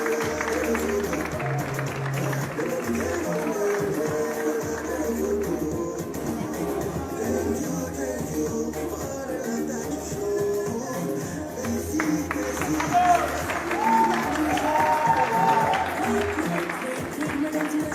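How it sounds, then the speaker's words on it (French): Audience applause at a fashion show honouring a clothing designer, a steady broadband patter lasting about eighteen seconds and mixed with crowd noise and tonal sounds underneath. "Des applaudissements"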